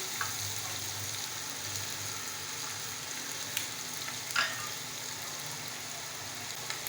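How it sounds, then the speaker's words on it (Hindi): Tomatoes go into a pot of lightly browned meat frying in oil, giving a quiet, continuous sizzle with a few soft clinks and stirring sounds. "गोश्त लाइट ब्राउन हो चुका है। अब हम इसमें टमाटर डालेंगे।"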